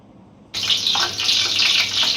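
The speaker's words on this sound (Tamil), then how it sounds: "50 கிராம் நெய் நான் பாதி இப்போ ஊற்றிருக்கேன்" Ghee poured into a pot for mutton biryani, a sudden loud hiss of liquid that starts abruptly after a quiet moment and streams on steadily to the end.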